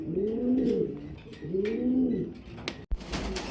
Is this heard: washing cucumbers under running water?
no